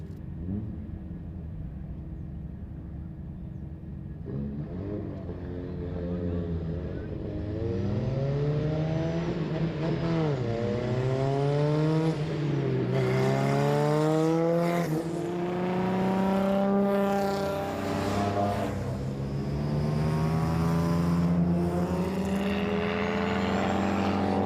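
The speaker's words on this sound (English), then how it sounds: "Alfa Romeos now making their way on track." Alfa Romeo race cars heading onto the track at the Winton Festival of Speed, starting as a low distant rumble and building to loud, layered engines revving and accelerating past, with no talk.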